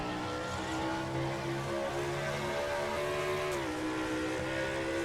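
Race car engine in a racing video game shifting up into third gear on a short oval track, a steady loud drone whose pitch climbs, then dips briefly at the shift and climbs again.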